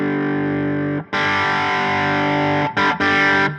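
Electric guitar run through stacked Archer and Dudes overdrive pedals, a thick distorted sustained chord ringing loud and close, briefly cut off near one second and twice more near the end.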